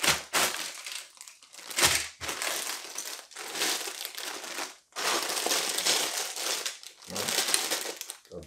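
Plastic bags of building block parts crinkle and rustle close up in repeated bursts, with short pauses between handfuls and no voices.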